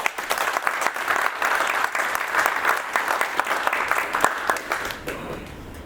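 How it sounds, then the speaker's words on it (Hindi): An audience claps together on cue at a prospecting-list training talk, a dense, steady wash of applause filling the room for several seconds before thinning out near the end. "लगाओ ताली।"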